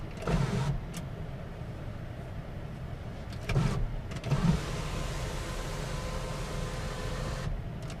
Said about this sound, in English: we can vent the sunroof like that, or we can open it up all the way.